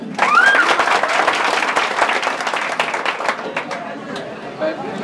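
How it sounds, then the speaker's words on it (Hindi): A crowd at a coaching centre event in Jehanabad bursts into loud, close applause with cheering and scattered voices, the clapping gradually thinning while chatter continues beneath it. "एक जोरदार ताली हो जाए"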